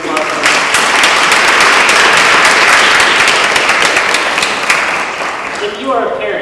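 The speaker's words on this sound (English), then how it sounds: "Let's have a round of applause." A live audience at a Clinton School lecture breaks into sustained applause, dense steady clapping that swells and holds near full loudness, then tapers slightly toward the end.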